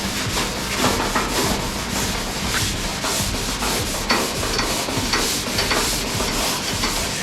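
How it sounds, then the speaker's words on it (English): Steady, close scrubbing of a Scotch-Brite pad over a General Lee car's door, a rhythmic rasping back-and-forth that continues without pause. "now I'm going to do some Scotch-Brite and even out anything"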